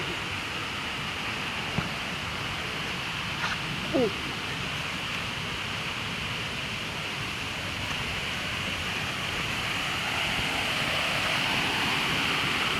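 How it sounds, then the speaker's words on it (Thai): Tad Sae waterfall in Laos roars as a steady broadband rush of falling water, constant and fairly loud throughout, with a faint brief voice and small knocks early on. "น้ำตกตาด"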